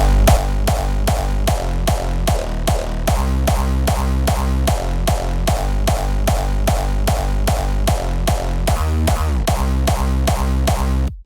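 A loud, distorted, layered hardstyle kick drum pounds in a steady four-on-the-floor pattern, each hit a punchy pitched thud with a gritty tail.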